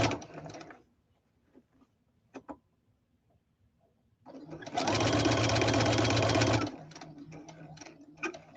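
Sewing machine stitching in one steady burst of about two seconds, loud and close, with quieter clicks and handling noises before and after.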